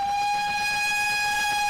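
A train on the Gloucestershire-Warwickshire Railway, a preserved heritage line, sounds one steady, loud, sustained whistle tone that holds unbroken throughout.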